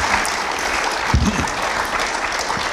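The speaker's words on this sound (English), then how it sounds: "let us give our panel a round of applause" An audience applauds a panel at a talk event, a brief burst of steady clapping heard close and fairly loud throughout.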